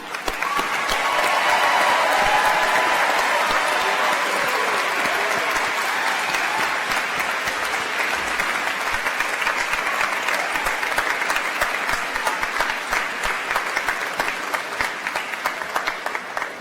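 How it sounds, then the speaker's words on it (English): Sustained audience applause at a SUNY Polytechnic Institute College of Engineering commencement ceremony, honoring the graduates: a dense, steady roar of many hands clapping that stays loud and unbroken throughout. "a round of applause for all our graduates"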